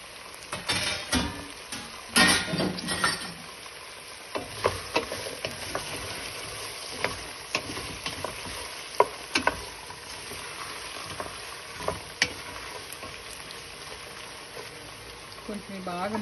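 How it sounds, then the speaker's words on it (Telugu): Okra tipped into a pan of fried onions for a tomato curry, with clattering drops and scrapes over a light sizzle, busy at first and then settling, with bits of speech between. "ఇప్పుడు బెండకాయలు వేసేద్దాం."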